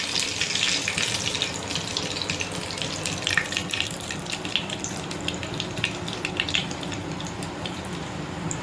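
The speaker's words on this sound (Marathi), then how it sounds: "तडका राई फुटू द्यायची चांगली" Mustard seeds crackle and spit in hot oil during a tempering for tomato chutney, a steady close sizzle with scattered sharp pops throughout.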